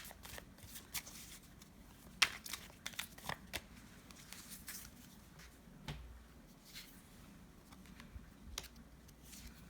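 Soft riffling and flicking of tarot cards, a quick series of light papery taps and shuffles close by, quiet with no talking.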